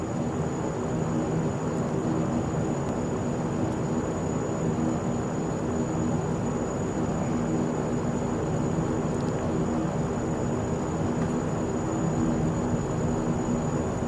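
A Carenado Saab 340B turboprop taxis in X-Plane 11, its engines holding a steady, loud droning hum with a constant high whine and no change in pitch or level throughout.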